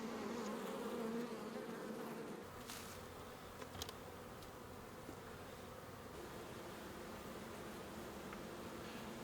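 Honeybees buzz steadily around an open hive being inspected, a dense continuous hum with individual wingbeats rising and falling close by, no voices over it.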